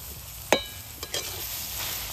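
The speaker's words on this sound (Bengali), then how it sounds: "এবারে চিনিটা এইভাবে খুন্তি দিয়ে নাড়িয়ে নেবেন" A spatula stirring caramelizing sugar with grated coconut in a pan, one sharp scrape and then a couple of softer scrapes over a low, steady sizzle.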